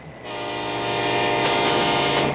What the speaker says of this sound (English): It's a hype train, Sayonara, so you get to honk the horn on that one